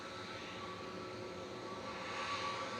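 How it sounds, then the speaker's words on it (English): An EasyJet airliner taxiing for departure at Manchester Airport gives a distant, steady jet engine hum with a faint whine, swelling slightly toward the end. "We've got an EasyJet dashing across as well for departure."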